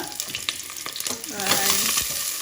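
Hot oil sizzles loudly in a pan while Indomie noodles fry, with stirring scrapes and crackling bursts building to a steady hiss, close up and without talk.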